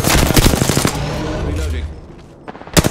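Gunfire in a video game: rapid, loud bursts of automatic fire, a pause with a low rumble, then another sharp burst near the end.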